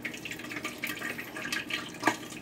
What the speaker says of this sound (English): You see that thing bubbling like crazy, exploding there.